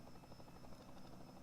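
A helicopter filming a Bowman Gray short-track race drones steadily with a rapid rotor thump, loud and close throughout the short stretch with no voices over it.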